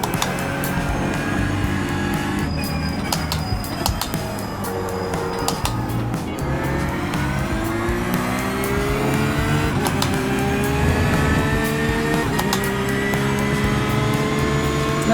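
A loose-handling race car being set up for racing drives hard through corners and over curbs, its engine note rising and falling in long sweeps, loud and close with no talk.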